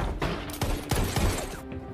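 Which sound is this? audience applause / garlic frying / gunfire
gunfire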